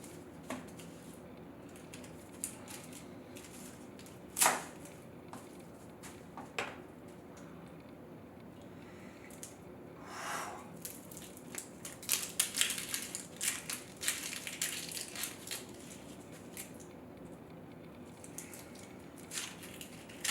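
Knife cutting two onions on a board for slow-cooked pulled pork, giving scattered crisp chops and crunches at irregular intervals, fairly close and quiet, with busier cutting toward the end and no talking.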